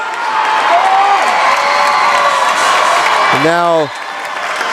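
A near-capacity crowd at a high school boys basketball game between Marion and Mt. Vernon cheers and applauds, loud and steady throughout, with a play-by-play announcer talking over it and a brief horn toward the end.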